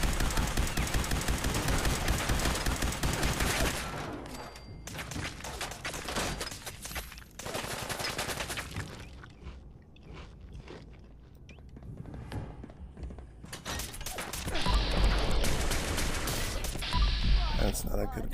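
Gunfire in the VR game Fallout 4 VR played on an omnidirectional treadmill: repeated loud shots and bursts with clattering thuds and footsteps, dense at the start and end, as a player talks at times.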